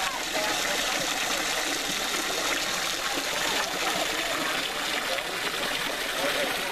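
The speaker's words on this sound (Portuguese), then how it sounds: "Aqui a cachoeirinha das águas termais" A small waterfall of hot thermal water near Colinas do Sul pours steadily, a loud, continuous close-up rush and splash with no other sounds.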